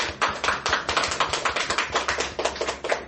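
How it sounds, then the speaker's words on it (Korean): A church congregation claps together in quick, rhythmic unison, a dense run of close, crisp hand claps continuing steadily for several seconds to honour a newly appointed deaconess. "유경희 집사님 또 한번 박수 한번 보냅니다"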